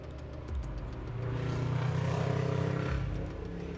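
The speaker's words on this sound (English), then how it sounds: "Did anyone else hear that motorbike? I heard that motorbike." A motorbike passes by outside, its engine swelling from faint to a close, loud drone and then fading away over a few seconds.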